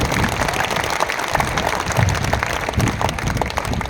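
Hall audience at a Hindi kavi sammelan comedy poetry event applauding a poet, a dense, steady wash of many hands clapping for the full stretch, moderately loud with no talk over it.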